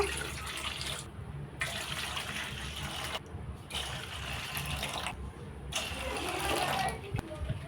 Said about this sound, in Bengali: এই বাটির পরিমাপ করে পাঁচ বাটি জল আমি এখানে নিয়ে নেব